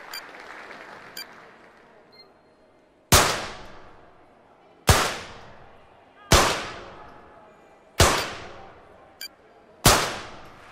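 Five loud, sharp gunshots from Olympic target shooting in the London 2012 video game, fired at steady intervals of about one and a half seconds, each with a quick decaying tail after a quiet lead-in.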